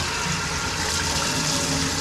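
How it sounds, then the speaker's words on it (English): Water gushes hard from a tap under high household pressure, a loud, steady, close rushing hiss that holds evenly throughout. "There's a lot of water coming out of there."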